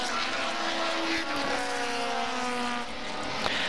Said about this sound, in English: turning through Paddock Hill Bend there is the 54 machine. That's Philip Buhofer in the Lola Mark 5A.